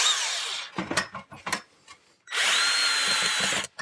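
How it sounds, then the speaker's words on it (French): A power screwdriver drives screws into a wood-fibre insulation panel in an attic, with two long whirring bursts separated by a quieter stretch of short clicks and knocks, close and loud. "Et là, il suffit de visser."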